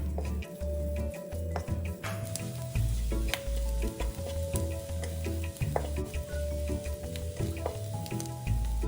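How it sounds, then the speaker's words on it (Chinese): Chopped dried shrimp sizzle steadily in a hot wok over medium heat, a dense continuous crackle with occasional stirring clicks, close and loud throughout. "将虾米碎倒入热锅中爆香，中火将虾米爆出香气。"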